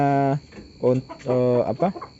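Loud, close clucking calls from Bangkok chickens come in a few drawn-out bursts with short gaps between them.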